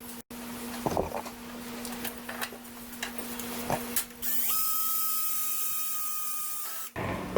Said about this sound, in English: mark these holes and get to drilling